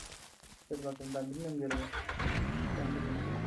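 A car engine cranks and catches in the Ranch Simulator video game, starting after a short whine and settling into a loud rough idle, with people talking over the first moments.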